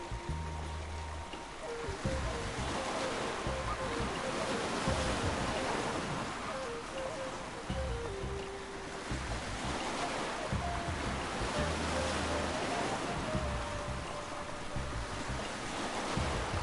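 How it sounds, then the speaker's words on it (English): Waves from an ocean sound effect in LittleBigPlanet 3 wash in and out continuously, a broad surf hiss that loops with faint tonal game sounds layered beneath. "those ocean sounds are playing too much"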